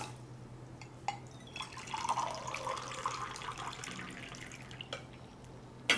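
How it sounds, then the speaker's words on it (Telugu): Water is poured from a glass into a pot of washed rice in a home kitchen, a soft splashing trickle in the middle, with faint drips and clinks before and after. "ఒక గ్లాస్ రైస్ తీసుకున్నాను కాబట్టి రెండు గ్లాస్ నీళ్ళు పోయాలి."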